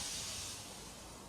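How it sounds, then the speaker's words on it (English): A steam locomotive in the Trainz railway game gives off a loud, steady broadband hiss of escaping steam that fades slightly toward the end. No separate puffs stand out. "Finally, Edward puffed in."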